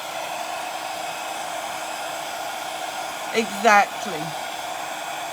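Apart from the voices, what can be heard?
blow-drying a decoupage planter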